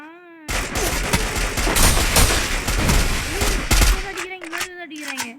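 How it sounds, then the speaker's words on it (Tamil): Video game gunfire in a loud burst of rapid shots and booming impacts filling most of the clip, framed by tonal game sounds at the start and end, with a voice talking over the action. "அடிக்கிறாங்க, மேலே அடிக்கிறாங்க."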